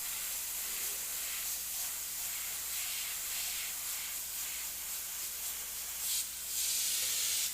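Soft, steady hiss of an airbrush misting paint onto a Warhammer servo skull model, faint and continuous with slight pulses, with a low background hum.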